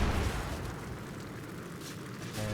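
Mines exploding from a bot's spell in a video game, a dense rumbling blast that fills the moment with a low roar and hiss, loud and sustained across the short stretch.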